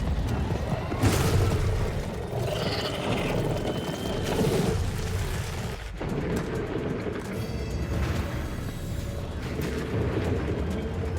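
A dense, sustained rumbling blast roars through a Directive 8020 game scene, with a louder boom surge near the start and continuous low churning noise that persists throughout.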